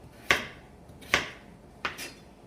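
Potatoes being chopped for a homemade turmeric curry, a knife striking the cutting board in three crisp, separate strokes about a second apart over a quiet kitchen background.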